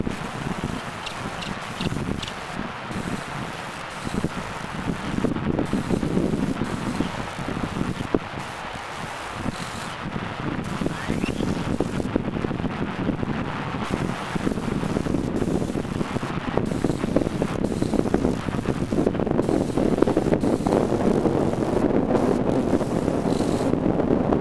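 Wind blows outdoors, buffeting the microphone in loud, continuous gusts that swell and ease, with a rushing, surf-like roar throughout.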